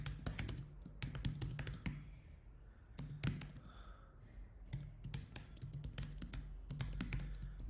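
Typing on a computer keyboard during Ruby on Rails coding work, with close, rapid irregular key clicks in bursts and short pauses, no talking.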